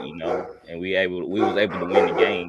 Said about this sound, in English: I'm sorry that my dogs are barking